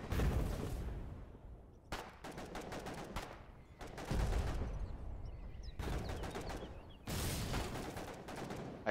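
A Tempest battery firing in the war game Foxhole: several loud, booming artillery blasts spaced a couple of seconds apart, each followed by a rolling, crackling decay, with no talk.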